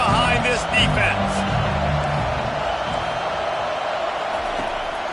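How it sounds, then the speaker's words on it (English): Crowd noise from an American football video game rises as fans get behind the defense on a big third down; a broad, steady roar fills the clip, with a brief swell near the start, and a commentator's voice is heard over it early on. "Big 3rd down as the crowd gets behind this defense."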